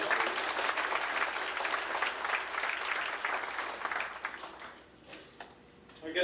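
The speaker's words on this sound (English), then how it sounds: "Let's give them another round of applause." FFA banquet audience applauds a helper, dense clapping for about four seconds that then thins to scattered claps and fades out.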